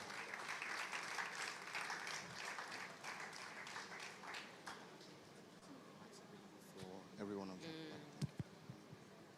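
A conference crowd at an SME event applauds the anchor as he comes up. Sustained applause runs for about five seconds before fading under a voice and a few final claps.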